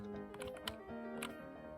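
Quiet computer keyboard keys are pressed in a loose run of soft clicks and taps, close by, with no talking.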